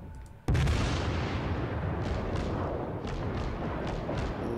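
A light cruiser's main guns in the video game World of Warships fire one sudden heavy boom, followed by a long rumbling roar with several fainter distant blasts echoing behind it.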